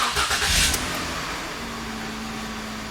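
Car engine with an intermittent misfire in cylinder number 1 cranking and catching, then settling into a rough, steady idle hum at close range.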